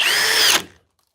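A Kobalt cordless drill drives a fastener in one short, loud, high whine right up close, then winds down and stops abruptly.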